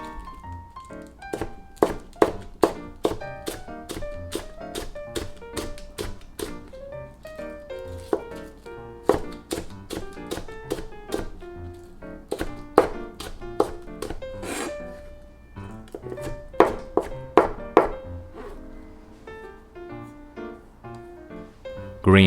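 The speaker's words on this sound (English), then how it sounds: "Cut off the end first and cut it diagonally." A kitchen knife chops green onions diagonally on a wooden board, with irregular crisp taps and short rapid runs of cuts, close and clear, with brief talking at points.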